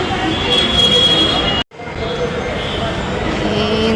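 Hyderabad metro train at Ameerpet station rumbling steadily with broadband rail and wheel noise, loud and close, broken by one brief dropout near the middle.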